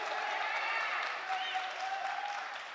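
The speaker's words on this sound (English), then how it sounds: "And we're going to clap hands also." Audience at an arts and culture forum clapping hands, a steady burst of applause from a crowd in a hall, moderately distant, with a voice over a sound system talking through it.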